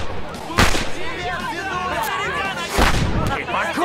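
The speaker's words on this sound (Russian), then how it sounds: "Со взрывом очередной петарды Сэндлер срывается." Two sharp, loud firecracker bangs burst out about two seconds apart close by in a comedy film scene, with excited voices and crowd noise around them.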